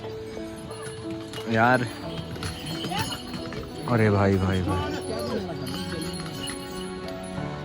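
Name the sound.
horses walking on a mountain trek trail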